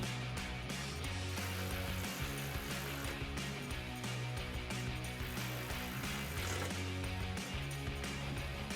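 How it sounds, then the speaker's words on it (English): A ratchet fitted with a 13mm socket tightens a running board bracket under a 2021-2024 Bronco, giving faint continuous clicking and mechanical rattling. "So we're gonna go underneath and tighten it with our ratchet and 13mm socket."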